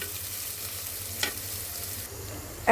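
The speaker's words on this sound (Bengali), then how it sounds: "চলো এবার পেঁয়াজটাকে একটু সুন্দর করে ভেজে নেবো" Onions frying in a pan for a prawn and taro-stem curry, a steady low sizzle running throughout with a brief scrape of the spoon stirring midway, close and fairly quiet.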